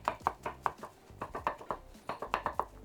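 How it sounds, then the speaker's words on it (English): A knife chops mushrooms into small cubes on a chopping board, a steady run of crisp, close taps in quick bursts with brief pauses, alone without talk. "just cut your mushrooms into strips and then into 1 centimeter cubes"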